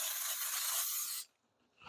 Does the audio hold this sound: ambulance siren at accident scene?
no